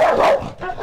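A single unfriendly dog in the Russian countryside gives a short, sharp bark at close range, followed by a quieter second yelp a moment later.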